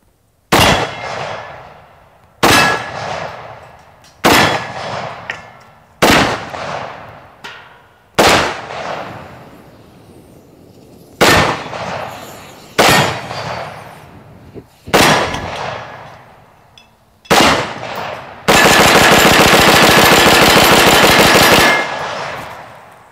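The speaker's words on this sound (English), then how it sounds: "I'm impressed with the rate of fire we're able to get out of this thing." A Houlding G2L carbon fiber AR-15 rifle fires outdoors in loud, sharp, ringing shots spaced a second or two apart, ending in a sustained burst of rapid fire lasting several seconds.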